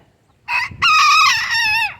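A rooster crows on a backyard chicken keeper's property after overnight rain: one loud, close cock-a-doodle-doo, a short opening note followed by a long wavering call, alone against quiet background.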